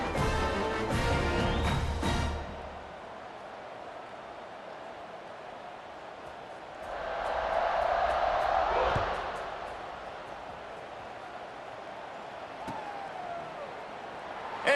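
Stadium crowd noise from the College Football 26 video game during a kickoff, a steady roar that swells for a few seconds mid-clip, heard alongside game commentary and band-like tones at the start.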